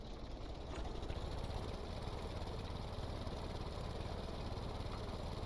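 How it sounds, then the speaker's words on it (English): A model helicopter engine raised to 15 throttle runs with a steady, buzzing drone and a faint high whine, constant and even in level throughout, with no talking. "So I'm going to bring the engine up to 15 throttle."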